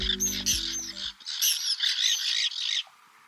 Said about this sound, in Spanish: vemos a la primera especie del día, un poco ruidosa por cierto. Este es el charrán de alas blancas